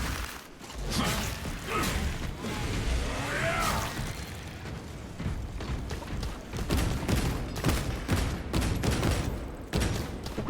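Dense rapid gunfire in the Warhammer 40,000: Space Marine 2 video game, loud continuous bursts mixed with whooshes, mechanical clanks and crashing impacts across the whole stretch.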